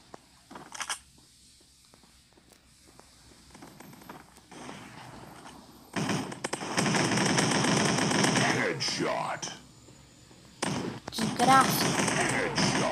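Rapid gunfire in a shooting video game, with long bursts of automatic fire between quieter stretches, loud and dense, while a player talks over the gameplay.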